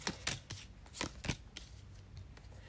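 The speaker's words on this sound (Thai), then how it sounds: "ไพ่ใบเดิมเค้กสับไพ่แล้วนะเมื่อกี้ไพ่ใบเดิมขึ้นมา" A deck of tarot cards is shuffled by hand, with a series of quick, soft riffling bursts at an uneven rhythm. The sound is close and fairly quiet.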